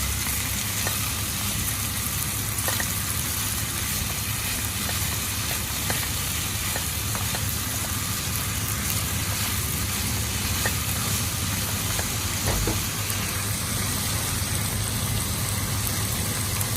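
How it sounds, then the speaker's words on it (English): Spare ribs stir-fried with sugar over low heat give a steady, moderate sizzle throughout, with scattered light clicks of a utensil against the pan and no talking. "Add the sugar. Stir fry in low heat."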